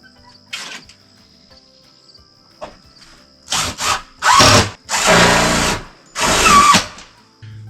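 A power drill drives steel roofing screws fitted with rubber washers into metal roofing, producing several loud whirring bursts of a second or so each, separated by pauses, close and with no talking.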